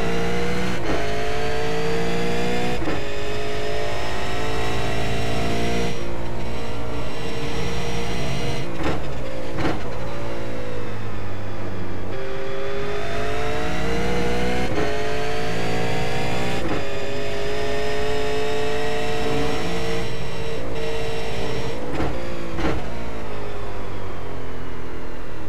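V8 race car engine lapping Donington in iRacing, a loud continuous drone with harmonics that rise and fall through gear changes and corners, steady throughout with no talking.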